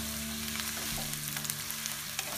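Chopped onion dropped into a generous amount of hot oil for vegetable macaroni gives a steady, close sizzle that runs unbroken, with light crackles scattered over the hiss and no voices.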